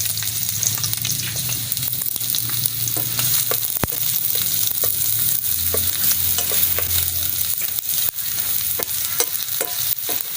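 Garlic fries in hot cooking oil for a pork belly adobo in coconut milk. It makes a loud, dense, continuous sizzle and crackle, up close, with occasional sharp pops and a spatula scraping the pan. No one speaks.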